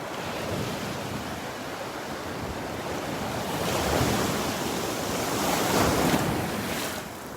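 Ocean surf washes onto a sandy beach at Delnor-Wiggins at low tide, a continuous roar of breaking waves swelling and receding with wind rumbling across the microphone, no voices.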